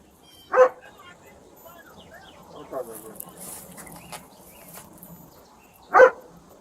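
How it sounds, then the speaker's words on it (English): A dog shut inside a house gives two sharp, loud barks about five seconds apart, with faint scattered noises and soft background sound in between. "It's a dog trapped inside."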